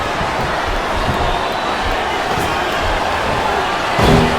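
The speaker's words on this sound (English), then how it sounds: "This capacity crowd is making their opinions known tonight." Steady roar of a packed arena crowd in WWE SmackDown vs Raw 2007, during a Melina vs Torrie Wilson Ultimate Submission match, a constant loud wash with a brief swell near the end.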